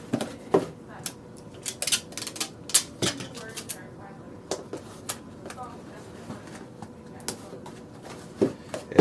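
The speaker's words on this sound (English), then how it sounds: "Just simply tape those tabs down." Packing tape is pulled and pressed onto cardboard box tabs during packing of electronics for shipping, with sharp irregular crackles, taps and rustles close by.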